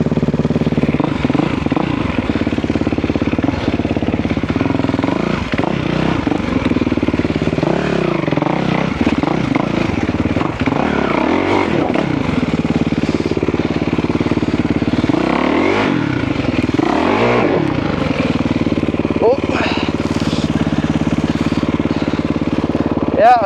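A motorcycle engine runs steadily throughout, rising and falling in pitch as the rider accelerates and eases off, with a rider's voice talking over it at times.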